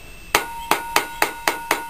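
Six sharp hammer strikes on metal plates cut with tin snips, flattening the edges of a dry-cell plate; crisp, close, evenly spaced ringing taps with no talking.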